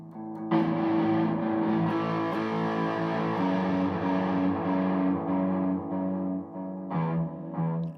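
Heavily distorted electric guitar through an overdrive effects unit, a sustained chord ringing thick and loud for several seconds, briefly cutting out and then restruck near the end.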